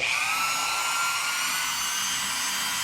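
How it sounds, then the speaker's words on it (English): A Dremel with a sanding drum grinds a balsa-style wing panel on a Top Flite P-51D Mustang model airplane, making a steady, close, high-pitched whine that holds without a break. "get this with the Dremel sanding drum"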